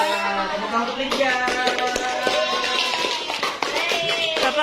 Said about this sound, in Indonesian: Ya, tepuk tangan untuk Lydia.